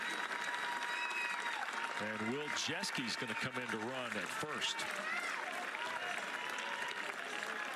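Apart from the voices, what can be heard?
applause from baseball crowd for substituted player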